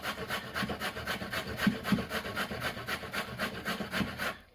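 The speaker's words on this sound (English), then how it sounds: "it's fun to grate a carrot" A carrot is rubbed against a grater in quick, even back-and-forth strokes, a close rasping scrape that keeps a steady rhythm and then stops abruptly at the end.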